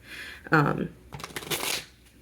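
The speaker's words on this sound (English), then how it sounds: "I will do a formal shuffle for this." Close, papery riffling and flicking as a deck of playing cards is given a formal shuffle, with a soft voice briefly at the start.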